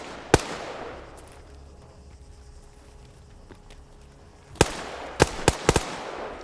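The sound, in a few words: grenade explosions in Arma 3 video game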